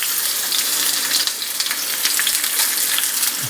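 Peppers and onions sizzle steadily in a hot pan, a bright, even crackle of frying that stays close and constant with no voices.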